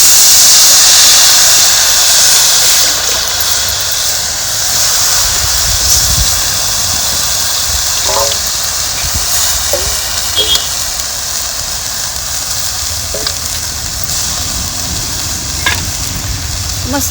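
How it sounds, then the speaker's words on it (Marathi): Washed greens go into chutney in a hot pan and get stirred, giving a loud, steady, hissing sizzle with occasional soft clicks of a spoon against the pan. "आता ही धुवून घेतलेली भाजी ना ही आपल्याला त्याच्यात टाकायची"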